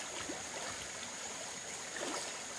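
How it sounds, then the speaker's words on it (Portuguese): The Água Branca river in Joaíma, Minas Gerais, makes waves midstream, a faint, steady rushing and trickling flow heard from nearby without talk. "Isso aqui é a onda que ela faz aqui no meio do rio, ó. Olha o barulho."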